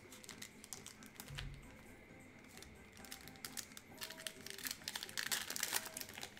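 A cellophane-wrapped trading card pack is torn open, faint crinkling and ripping plastic in short bursts close by, quiet and alone.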